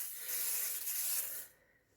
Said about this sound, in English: I'm just going to spray in here with some rust inhibiting oil